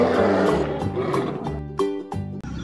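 A toy lion figure is shown while a loud, dramatic lion-like roaring sound plays over music, with several swelling bursts across a few seconds.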